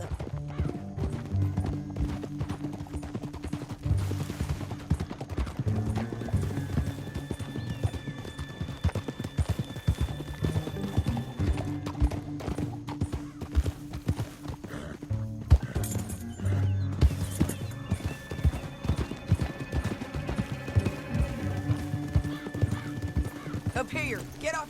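Horse hooves clopping in Red Dead Redemption 2, with a horse neighing and whinnying amid game music and spoken dialogue; the rhythmic hoofbeats run throughout at moderate volume under the voices.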